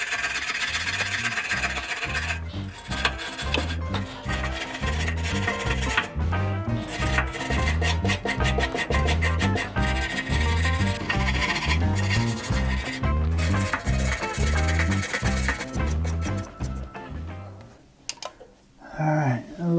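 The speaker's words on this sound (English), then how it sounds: "I got a little wire brush to try to clean this stuff up a little bit better." A small wire brush scrubs hard at the crusty burnpot of a Harman P68 pellet stove, rapid rhythmic back-and-forth rasping that runs loud and continuous for most of the time before briefly easing near the end.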